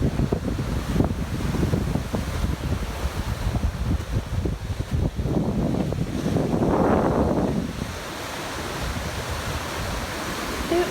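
Ocean surf rolling onto a Florida beach at Coral Cove Park on Jupiter Island, a steady broadband roar with wind buffeting the microphone and a brief swell of breaking water near the middle, no voices.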